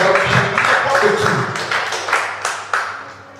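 A church congregation claps and acclaims God, a dense run of hand claps and cheering voices that fades toward the end.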